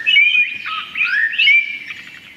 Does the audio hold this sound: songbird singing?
yes